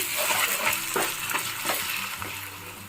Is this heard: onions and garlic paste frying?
yes